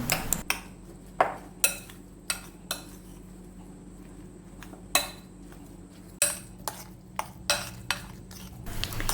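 A spoon stirs a bread snack mixture with milk in a bowl, giving sharp metallic clinks against the bowl at an uneven, roughly half-second rhythm over a low background hum.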